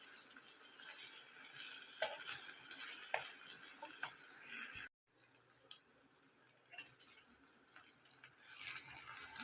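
Bell peppers and tomatoes fry in a pan with a soft, steady sizzle and occasional stirring clicks, fairly quiet throughout, with a brief dropout midway.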